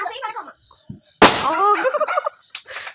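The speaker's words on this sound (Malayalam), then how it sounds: "കുത്തി പടക്കമാണ് ഗേസ്" A single sharp bang from a kuthi padakkam firecracker during Diwali celebrations cuts in suddenly, surrounded by people talking and exclaiming nearby.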